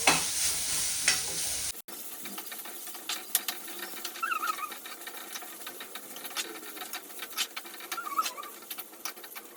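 Ingredients fry in hot oil in a pan on a home stove while being stirred. A loud hissing burst at the start settles into a steady low sizzle with scattered clicks and scrapes of the spoon.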